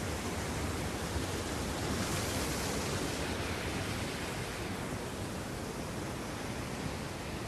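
Steady, roaring rush of a river waterfall about five and a half feet tall, broad and constant at close range for the whole stretch, with no voices over it.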